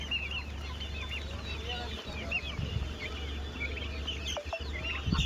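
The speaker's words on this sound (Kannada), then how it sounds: "ಅವು ಚಿನ್ನಿ ಕೋಳಿ." Assorted chickens clucking at a busy village poultry market where birds are sold in pairs, a steady murmur of clucks and calls with a low hum beneath and occasional handling noises.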